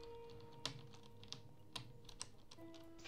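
Keys clacking on a new computer keyboard during a livestream, with a few sharp, louder strikes standing out over a steady, faint background hum.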